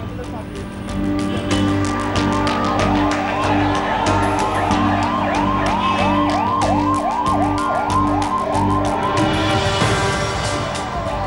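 An ambulance siren wails continuously on a busy Bangalore street while held up by a minister's convoy, its rising and falling tone steady and fairly close over constant traffic and crowd noise, with other horns and siren tones mixed in.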